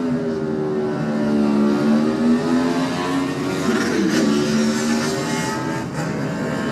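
A Honda superbike revs hard as it pulls away at the start of a Classic TT road race, a loud, sustained engine howl that sweeps up and down in pitch as it climbs through the gears.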